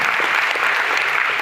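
Loud, dense applause from an audience at a talk, many hands clapping together in a continuous, close wash of sound with no speech over it.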